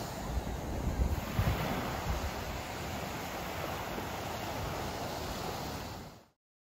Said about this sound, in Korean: 엘라바마 남쪽에 위치한 걸프쇼어 비치입니다. 눈처럼 하얀 모래와 푸른 바다가 장관을 이룹니다.